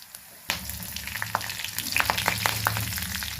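Garlic, cumin and green chillies hitting hot oil, a sudden loud sizzle that settles into steady close frying with crackles and light stirring clinks.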